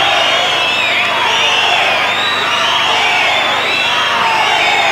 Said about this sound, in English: you can hear the crowd going crazy. Cheering her on, cheering them all on